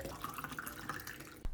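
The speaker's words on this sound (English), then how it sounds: "I managed to miss my entire water bottle and instead water the counters, but thankfully the second attempt is more successful" Water pours from a kitchen tap into a water bottle in a flat, a faint steady trickle with soft drips that ends in a short knock near the end.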